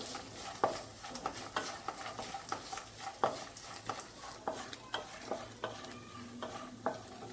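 Peanuts being sautéed in a pan, with repeated spatula scrapes and stirring clicks in an irregular rhythm over a faint sizzle, quiet and close, no voices.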